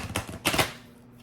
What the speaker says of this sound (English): Oopsies, I went to go shuffle those.